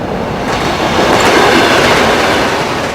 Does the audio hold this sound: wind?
no